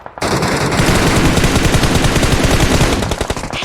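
Sustained rapid automatic gunfire in the video game PUBG Mobile, loud and dense with continuous bursts for several seconds before tapering slightly at the end.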